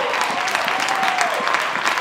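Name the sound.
football crowd applauding a great save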